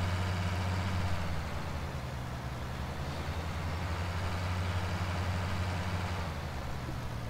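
A tractor engine in a farming video game runs at a steady idle, a constant low drone with an even hum that holds unchanged throughout, with no voices.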